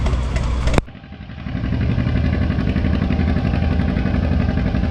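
An antique tractor at a tractor pull in Shannon, Illinois roars loudly and steadily at high RPM, a gruff, pulsing engine note holding constant after a brief dip in the first second.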